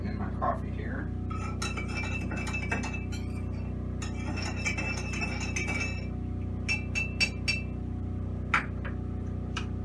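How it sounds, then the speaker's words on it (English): Sugar is spooned from a glass mason jar into coffee at a camp setup with an alcohol stove, with repeated sharp clinks and taps of the spoon against glass in clustered bursts and a faint steady hum beneath. "you don't have to count how many spoons of sugar I'm putting in my coffee here"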